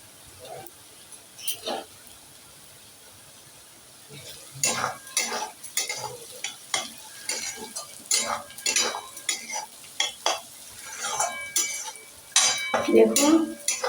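Ingredients for masala Maggi fry in a pan while being stirred: a spoon clinks and scrapes against the metal in brisk, irregular strokes over a soft sizzle. It starts sparse and quiet, then grows busier and louder.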